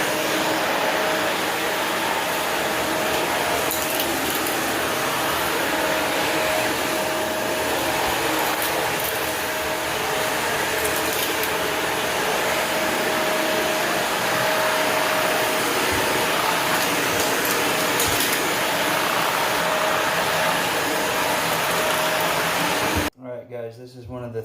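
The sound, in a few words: Shark vacuum cleaner vacuuming a tile floor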